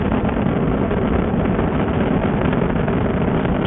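Continuous dense roar from Space Shuttle Discovery's three liquid-fuel main engines during launch, steady and loud throughout, heard through band-limited radio audio.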